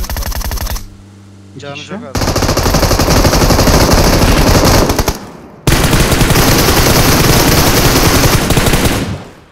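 An M416 rifle in PUBG Mobile fires sustained, loud automatic bursts at a vehicle. Two long bursts are split by short pauses, with a brief voice heard between them.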